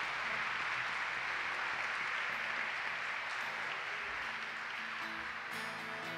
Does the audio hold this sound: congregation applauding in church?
yes